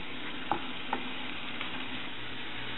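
Onion cooking in a pan for an Indian spicy egg curry gives a soft, steady sizzle, broken by a couple of light spatula taps near the start.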